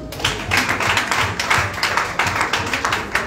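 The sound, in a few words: audience applause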